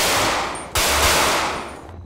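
A single loud gunshot cracks out in GTA 5 shooting-range practice, a sharp broadband burst followed by a sustained roar of room noise that slowly fades, with no talking over it.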